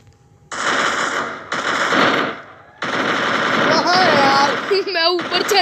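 Bursts of automatic gunfire from the mobile battle game Free Fire, in three loud sustained volleys with brief gaps, followed by rising and falling electronic effect tones.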